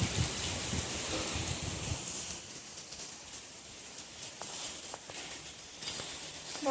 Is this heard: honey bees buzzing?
no